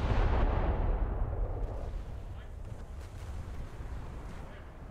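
Heavy naval gunfire from the USS Newport News cruiser in the War Thunder naval battle game: a loud, booming low blast at the start that decays into a sustained rumbling wash, with no talking.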